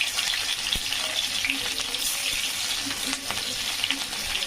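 Cumin seeds and green chillies fry in well-heated oil, a dense close sizzle with light popping and crackle throughout, with no talking.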